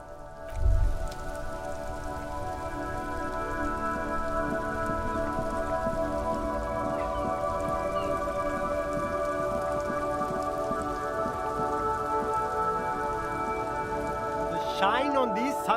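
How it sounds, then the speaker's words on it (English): Steady rain falls in the video game Disco Elysium, a constant even hiss running through the whole passage with a soft low thump near the start and a brief tonal flourish at the end. "This rain will not let up anytime soon."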